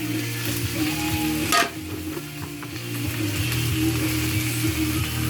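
Sliced zucchini sizzles and fries in a hot pan, a steady crackling hiss close by with a brief scraping stir partway through, and no one speaking.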